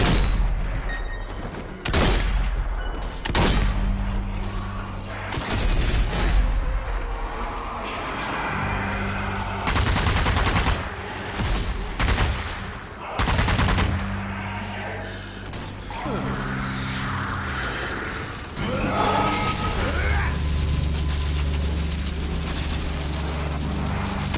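Gunfire and explosions in the zombie shooter Zombie Army 4: Dead War, with sharp bursts of shots and booming impacts in uneven clusters, mixed with engine-like rumble and occasional spoken game lines.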